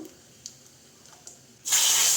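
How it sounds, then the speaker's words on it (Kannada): A few faint clicks in near silence, then a sudden loud, steady sizzle erupts as mustard seeds and cumin hit hot oil for tempering rasam. "ಎಣ್ಣೆ ಕಾದ್ಮೇಲೆ ಸಾಸಿವೆ ಜೀರಿಗೆ ಹಾಕ್ಕೊಳ್ಳಿ"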